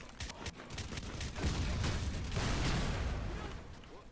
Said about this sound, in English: So let's get a nice big explosion.